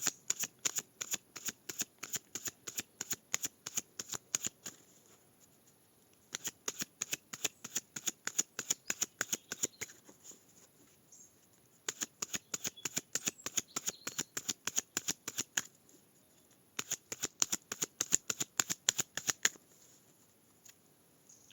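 Tarot cards being riffle-shuffled in several quick bursts of rapid flapping clicks, each lasting a few seconds and separated by brief pauses, close and fairly quiet with no talking.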